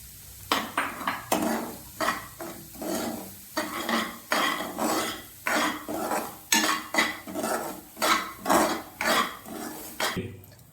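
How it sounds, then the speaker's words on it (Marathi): Raw semolina roasting in ghee in a kadhai, stirred with a metal spoon in a steady rhythm of scraping strokes against the pan, close and alone without talk. "आता मी कढईमध्ये रवा टाकणार आहे हा रवा कच्चा थोडासा आपल्याला तुपामध्ये भाजून घ्यायचा आहे"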